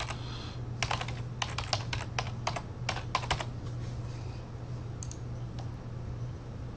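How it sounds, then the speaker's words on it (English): Rapid bursts of computer keyboard typing, clustered clicks in quick succession, close and fairly loud over a steady low hum, during play of EVE Online, with no voices. "I'm typing and nothing's happening."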